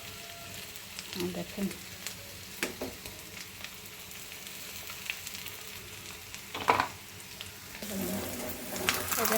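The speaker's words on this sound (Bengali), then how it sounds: "কত সুন্দর করে এটাকে পুঁই শাকের পাতা দিয়ে এখন ভেজে নিচ্ছি" Fish roe, potato and malabar spinach leaves fry in a pan, with a soft steady sizzle broken by scattered stirring scrapes and clinks, and a voice speaks briefly over it.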